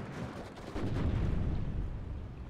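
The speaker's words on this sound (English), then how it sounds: "just putting down suppression fire now" Suppression gunfire in the WARNO strategy game rumbles as a dense, continuous roll of distant artillery-like bursts, swelling louder partway through.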